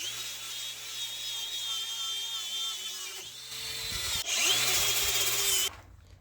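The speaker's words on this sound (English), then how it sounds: "Now that most of the rust has been wire brushed with the angle grinder" Angle grinder fitted with a wire brush scrubbing rust off an old Estwing hammer head, a steady high whine with gritty scraping that grows louder and harsher near the end before cutting off.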